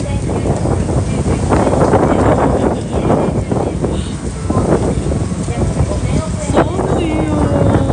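Strong wind buffets the microphone in a loud, continuous roar with gusty surges, while a person talks in the background.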